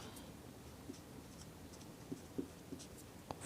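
Pen or pencil writing out a maths equation for a Class 9 number-system exercise, soft scratchy strokes with a few faint taps, quiet and close, no talking.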